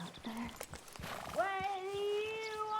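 Horse in the video game Red Dead Redemption 2, a few hoof clops followed by a long, clear, tonal whinny, with a voice talking over it.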